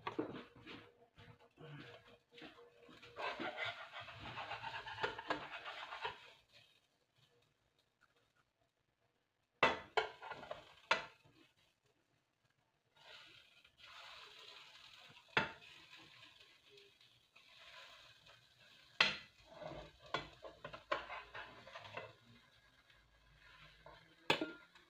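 Banana pancakes being flipped and fried in a pan, soft sizzling broken by sharp clinks and scrapes of a utensil against the pan, close and fairly quiet, with pauses of near silence between bursts of activity.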